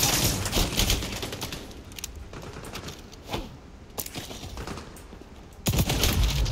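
Sharp sniper rifle shots in the shooter game XDefiant crack out at irregular intervals over a steady bed of gritty battle ambience, with one heavy blast near the end.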